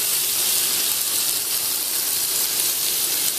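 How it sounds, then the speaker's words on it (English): Turkey bacon sizzles steadily in a hot pan, a loud continuous hiss and crackle with no talking over it. "you're going to stick your bacon onto the pan and you'll hear it sizzle"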